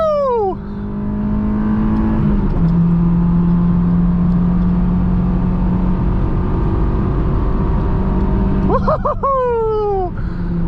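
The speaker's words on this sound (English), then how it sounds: "Oh, VTEC just kicked in." A Honda S2000 engine drones loud and steady from inside the cabin as VTEC kicks in, with a brief dip near the start, and a voice whoops excitedly near the end.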